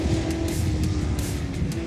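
Race cars at speed, a Ferrari Daytona and a Ford GT40, a dense continuous engine roar that is loud and steady throughout the short moment, with no one speaking.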